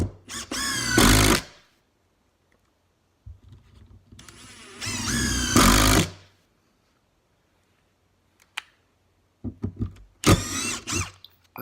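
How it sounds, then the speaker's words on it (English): A Ryobi brushless cordless drill drives screws into wood in three separate bursts, each a high whirring motor whine that rises under load and then stops, with quiet pauses between them. "I'm being careful to screw each screw into fresh wood so that the resistance is similar in the same piece of wood."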